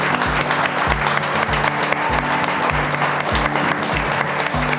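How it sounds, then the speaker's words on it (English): An audience claps in applause for a chef. The clapping is fairly close and sustained under repeated low, rhythmic thumps of background music. "Let's give him a round of applause."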